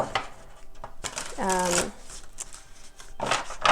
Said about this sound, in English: shuffling and taking cards, but I prefer to do it on camera